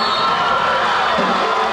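A crowd roars and cheers in a gym at a high school basketball game, a steady dense wash of many voices sustained throughout at high volume.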